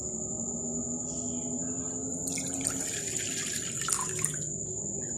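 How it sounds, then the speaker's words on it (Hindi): Water, 250 ml measured out, is poured into a bowl for bun dough, giving a soft steady trickle and splash for a couple of seconds over a constant background whine, with no talking. "250 ml मैंने पानी लिया है,"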